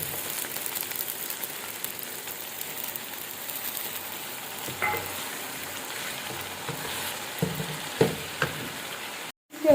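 Rice fries with boiled chicken pieces and peas in a pan, giving a steady, close crackling sizzle with occasional scraping stir strokes toward the end, and no talk.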